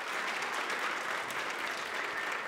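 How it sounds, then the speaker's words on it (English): Audience applause at a year-end children's choir program, a steady, fairly quiet wash of many hands clapping from a room full of people, with no talk over it. "give her an applause."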